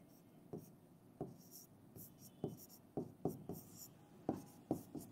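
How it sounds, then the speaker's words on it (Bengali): Chalk or marker strokes on a board come in short, scratchy bursts with an irregular rhythm, close and fairly quiet, while a lesson on atoms is written out. "আমি একটু লিখে রাখি"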